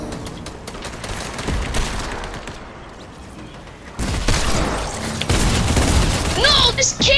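Bursts of gunfire in Fortnite: rapid volleys of shots, some loud and close and others farther off, against a busy in-game soundscape, with a heavier stretch of firing near the end.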